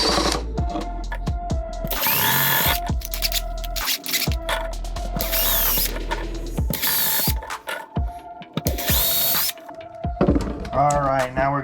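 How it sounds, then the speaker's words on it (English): Several short bursts of a power drill whirring up and down, close by, drilling pilot holes, with pauses and faint clatter between them. "I'm going to start by drilling a couple pilot holes here."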